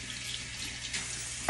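Cold water runs steadily from a tap into a bathroom sink during a nighttime skincare routine, a continuous close splashing hiss with no talk.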